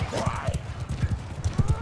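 Horse hooves galloping in Mount & Blade II Bannerlord: rapid, irregular clip-clop beats thudding close by, with battle ambience behind and a voice talking briefly near the start.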